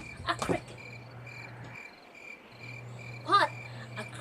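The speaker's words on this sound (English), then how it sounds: "But a cricket can chirp very loud." A cricket chirps in a faint, steady trill with a brief higher chirp near the end, heard alone against a quiet background.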